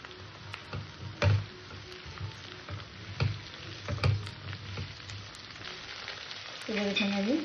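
Okra sizzles and crackles in hot oil in a pan, a steady frying hiss with scattered pops and stirring scrapes, and a soft voice briefly near the end.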